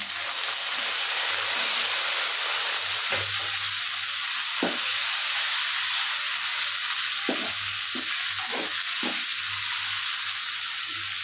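Tomatoes fry with browned onions in a pan, giving a steady, even sizzle and hiss throughout, broken by a few soft knocks of stirring.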